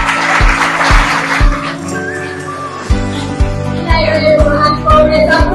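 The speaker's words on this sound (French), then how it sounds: "Encore des applaudissements" Applause from an audience at an event, a dense wash of clapping that is strongest in the first two seconds, then continues under music with a steady, thumping beat.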